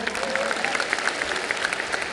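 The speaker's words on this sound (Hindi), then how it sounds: "अजय सर, दृश्यम 2 के लिए थोड़ी तालियां हो जाए" Crowd applause at the opening ceremony of the 53rd International Film Festival of India in Goa, a continuous wash of many hands clapping in a large hall with faint voices beneath.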